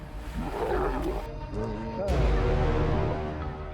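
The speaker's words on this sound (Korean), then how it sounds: "이 영상에서는 지금까지 카메라에 담긴 가장 강력한 사자 싸움을 보게 될 것입니다." Lions fighting in the wild, with deep snarling roars and growls that swell and overlap, loud and close, building in intensity toward the end.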